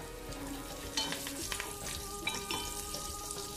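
Chopped garlic cloves sauteing in hot oil with curry leaves for a crab masala, a steady close sizzle with a few sharper crackles and stirring scrapes, no voices.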